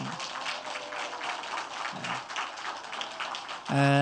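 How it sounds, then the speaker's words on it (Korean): Church congregation at a Sunday service applauding, a sustained patter of many hands clapping at moderate distance, with a brief voice or tone bursting in at the very end. "정말 뜨거운 박수를 한번 줬으면 좋겠습니다."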